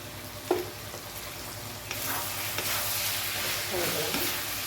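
Brinjal fry (kathirikai varuval) sizzling steadily in a pan while grated coconut is stirred through, with a few scraping spoon strokes over a constant frying hiss.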